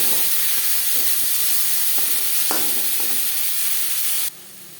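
Chopped onions and tomato frying in a pan, a loud, continuous sizzling hiss with occasional stirring scrapes, then the sizzle drops abruptly near the end.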